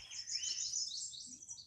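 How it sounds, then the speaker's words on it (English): A yellow warbler sings a quick, high, sweet phrase of rising and falling notes, fairly close, over a quiet low background hum. "That's a yellow warbler."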